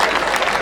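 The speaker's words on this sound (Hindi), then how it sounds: "तालियां बजा दो सर।" Audience applause at a comedy poetry show, a dense, loud burst of crowd clapping lasting under a second.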